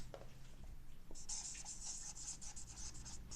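Chalk or marker scratches across a board in quick squeaky strokes, close and steady, over a low hum of room noise as trigonometry working is written out.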